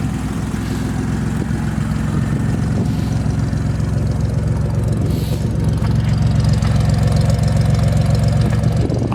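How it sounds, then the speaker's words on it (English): A steady, throaty idle from a 1968 Jeep Commando's Dauntless V6 with a glass pack exhaust, a deep low rumble and a slight uneven pulse, running continuously and close by with no other sounds. "On the exhaust we put a little glass pack just to give a little bit of sound"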